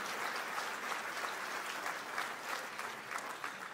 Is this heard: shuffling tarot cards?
no